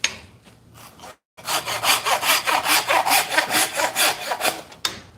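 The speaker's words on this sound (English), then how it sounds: "I have a butchering saw" A large hacksaw-style butchering saw cuts through a pig carcass in steady back-and-forth strokes, about a dozen rhythmic rasping passes close up after a brief pause, with no talking.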